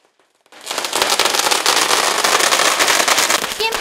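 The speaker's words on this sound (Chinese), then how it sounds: "炮声此起彼落" A rapid string of firecrackers bursts loudly into a dense, crackling volley after a half-second pause and continues without a break at a celebration for award-winning hotpot and barbecue restaurants in Taichung.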